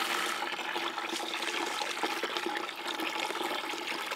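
Water pours steadily into a half-inch U siphon test setup, a continuous loud rushing and splashing flow that stays even throughout with no talking.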